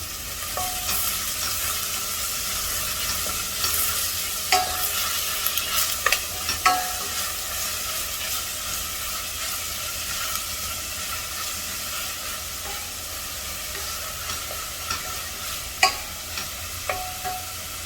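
Green chili and curry leaves frying in hot oil for Hyderabad vegetable dalcha, a steady close sizzle and hiss with a few stirring clicks and pops scattered throughout, no talking.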